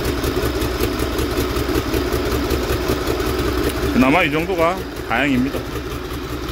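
A flooded Yamaha boat engine idles after repair with a steady low rumble close by, while someone speaks over it near the end.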